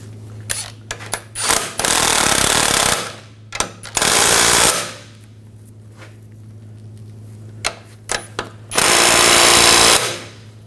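Impact wrench bursts tightening a nut on the front forward lower control arm of a 2000–2006 BMW X5, three loud sustained whirring runs with short clicks and rattles between them, close and alone.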